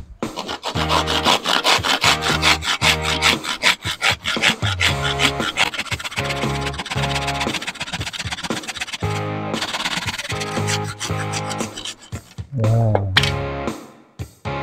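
A manual hand saw cuts through a wooden board in steady, loud back-and-forth strokes, close up and continuous, with a brief pause and a final few rough strokes near the end.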